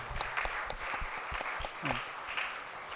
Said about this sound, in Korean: 우리 박수 한번 보내겠습니다